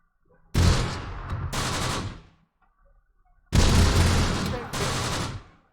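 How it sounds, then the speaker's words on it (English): Mortar rounds fire in Close Combat: The Bloody First in two pairs of loud, booming blasts, each burst trailing into a rumbling decay, with a quiet gap between the pairs. "Let's start putting mortar rounds here."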